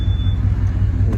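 A pickup truck engine idling nearby, a steady low rumble that holds even and continuous with no voices over it, parked beside a Forest River Salem 22 RVS travel trailer.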